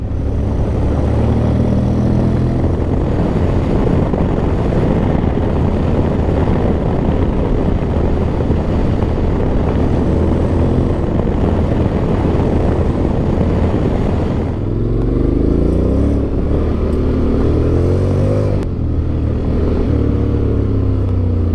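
A 2024 Honda X-ADV DCT 750 scooter being ridden, its engine droning loud and close throughout with continuous wind roar, and the pitch shifting in rising sweeps during the final seconds.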